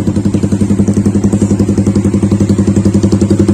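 A Honda CB150R motorcycle engine idles loudly and close just after starting, with a steady, rapid thumping pulse.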